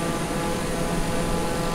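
A powerful airplane engine in Microsoft Flight Simulator 2020 drones continuously as a steady, dense roar during a flight over Jericoacoara, Ceará.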